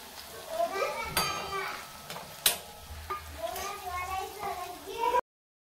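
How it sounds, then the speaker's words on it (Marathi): Green chillies and finely chopped garlic frying in oil, a crackling sizzle with sharp spattering pops and stirring scrapes, heard under a voice and children in the background. "आता मी मिरच्या घालते, त्याही तळून घेते। मिरच्यामध्येच मी लसूण घालते।"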